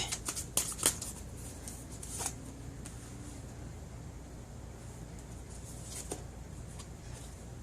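Playing cards shuffled for a reading, a few quick riffling bursts near the start, then a low steady background hum with no talking.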